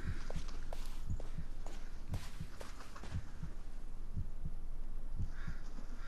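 A faint heartbeat thumps in the background of the Blair Witch game, a steady double-beat pulse repeating throughout beneath a low ambient hum.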